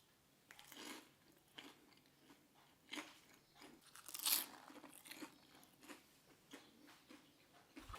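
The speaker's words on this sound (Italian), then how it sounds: "devi sentire quanto sono croccanti" Someone bites into crispy, light fried zucchini fritters, a series of close, quiet crunches and chewing sounds spaced every second or so, with one sharper crackle midway.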